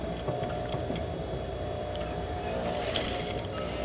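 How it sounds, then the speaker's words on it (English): Sewing machine running a single-needle stitch along a folded fabric edge for a flat felled seam, a steady continuous mechanical hum with faint ticking, close and unbroken throughout. "I'm going to run a single needle stitch along the edge."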